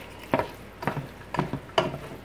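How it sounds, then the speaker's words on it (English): Ground chuck frying in a hot pan over medium-high heat while a utensil breaks it apart, with four evenly spaced scraping, sizzling strokes about half a second apart, close and moderately loud. "I'm going to continually just break this ground chuck up into smaller pieces."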